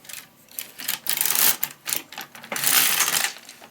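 A knitting machine carriage runs back and forth across four rows for a Santa ornament doll, giving bursts of dry, rattling clatter with short pauses between passes, close and fairly loud with no talking.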